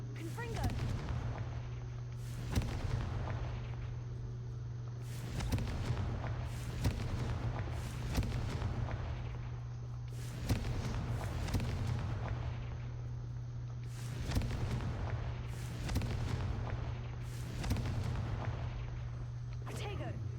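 Repeated Confringo spell explosions in a Harry Potter video game go off as sharp booming blasts in clusters, each followed by rumbling debris, over a constant low hum.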